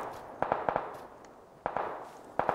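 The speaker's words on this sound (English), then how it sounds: "People shooting." Distant gunfire in a battle royale video game pops in short bursts of two to four shots, three clusters spaced roughly a second apart over a low background hum.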